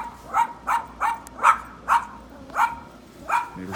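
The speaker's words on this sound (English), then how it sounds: "Neighbor's dogs, so that might be too much." Neighbor's dogs barking at a steady pace next to a pop-up camper trailer, about eight clear barks roughly half a second apart at moderate distance, with no talk over them.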